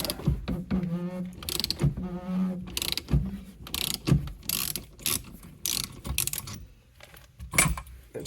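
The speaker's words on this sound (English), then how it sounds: "as I twist this down in, it will push against the shaft while these bolts hold it and pull the steering wheel off the shaft" A steering wheel puller is screwed down against the steering shaft of a 3rd gen F-body Camaro, giving a run of close, irregular ratcheting clicks and metallic creaks with short pauses between turns.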